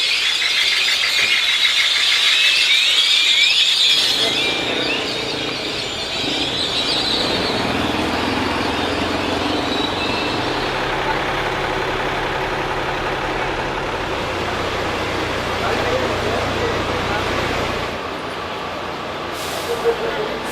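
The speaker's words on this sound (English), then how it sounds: "Traffic's heading out of through town here." Rush hour road traffic rolls past nearby through town, a loud brake squeal at the start, then engines and tyres rumbling steadily with vehicles passing.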